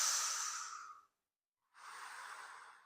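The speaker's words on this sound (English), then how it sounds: "breathing deeply" Deep belly breathing at a women's retreat stretching session: one long, airy breath for about a second, a pause of silence, then a second slow breath, soft and close.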